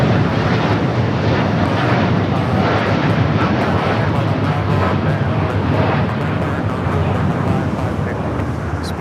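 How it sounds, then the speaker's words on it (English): A United Boeing 787-9 Dreamliner airliner at LAX produces a steady, loud jet engine roar with broadband rushing noise, continuous throughout, with wind buffeting the microphone and a voice talking over it. "this is a 787-9 going to Hong Kong, United Flight 801."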